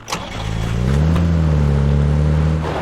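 A car engine in the video game PUBG revs steadily and loudly, its pitch rising briefly then holding at a sustained drone, with no voices.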